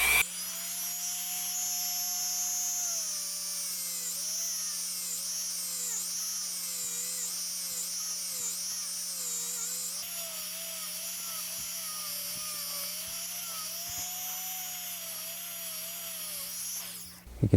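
A handheld rotary tool polishes Glock trigger parts at a relatively low 2,000 to 4,000 RPM, giving a steady, close whine whose pitch dips and wavers as it presses against the metal, running continuously throughout.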